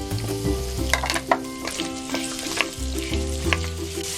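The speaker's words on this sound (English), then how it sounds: "Now, using the same pan, we are going to fry our potatoes" Potatoes and carrots fry in a pan with a dense, loud sizzle that never lets up, broken by scattered stirring clicks and scrapes.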